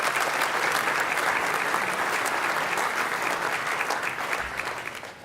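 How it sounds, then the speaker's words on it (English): Sustained applause from a large audience at the Hilton Sydney during the 30th Ethnic Business Awards gala presentation dinner, a dense steady roar of many hands that holds loud throughout and eases slightly near the end. "Round of applause for our supporters and sponsors."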